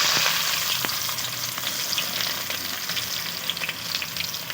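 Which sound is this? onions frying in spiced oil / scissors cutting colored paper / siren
onions frying in spiced oil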